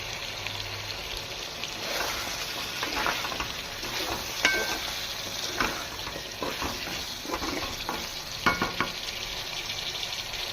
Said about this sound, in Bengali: আলুটার সাথে একটু কষিয়ে নিই